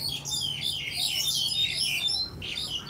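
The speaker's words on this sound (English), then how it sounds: "Then all the birds come out too." Birds chirp along a wooded trail in Hong Kong: a continuous stream of high, overlapping tweets and twittering calls, fairly close and lively, with no talking.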